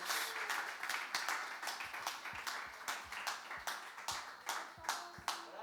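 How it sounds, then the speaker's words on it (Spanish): A church congregation claps in unison, a steady rhythmic beat of sharp hand claps repeating about twice per second, moderately close, with a faint murmur of voices underneath. "Dale fuerte esas palmas a nuestro Dios."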